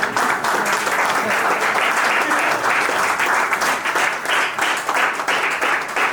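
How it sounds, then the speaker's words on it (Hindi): An audience applauds at a book release, with dense, steady clapping that stays loud and even throughout with no talk over it. "आप भी समाज में अपने जोरदार तालियों की गड़गड़ाहट के साथ"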